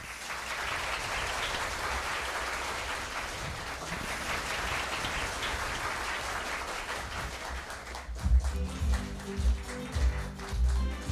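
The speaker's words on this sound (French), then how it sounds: "que je vous demande d'applaudir très chaud" Warm audience applause for two competing high schools, Lycée Benoît Batraville and Lycée National La Saline, at a televised quiz contest. Steady, dense clapping runs for about eight seconds, then gives way to a rhythmic musical beat.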